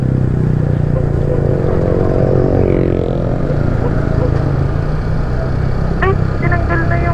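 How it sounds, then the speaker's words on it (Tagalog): A motorcycle passes along a road near a bend, its broad engine rumble and a rising, then falling whine swelling close by and fading, with steady road noise throughout. "Uy, may motor,"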